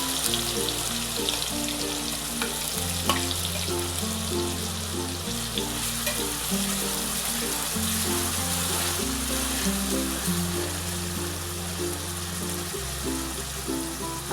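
Finely chopped onion frying in a pan for spicy misal, with a steady close sizzle running continuously beneath background music.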